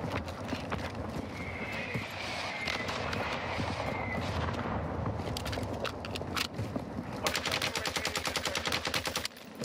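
Gunfire in Call of Duty Warzone on Ashika Island, an MP5 in use: a rapid burst of automatic shots rattles near the end, loud and close, after a stretch of dense game ambience and movement noise.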